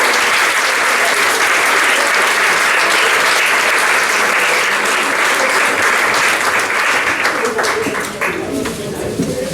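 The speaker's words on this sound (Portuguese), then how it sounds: "Uma salva de palmas para o José Eduardo Medeiros" An audience at a Portuguese lecture gives a sustained, dense round of applause, steady and fairly loud, tapering slightly toward the close.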